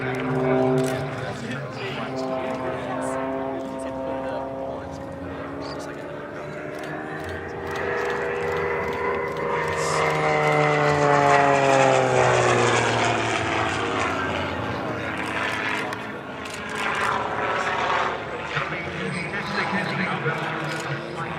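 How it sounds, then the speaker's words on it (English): A Rebel 300 aerobatic propeller plane flying controlled spins at an airshow, its engine drone rising and falling in pitch as it turns, loud and sustained under continuous commentary. "intentionally bringing the plane into stall position and dropping it down. These are controlled spins that he has to come out on."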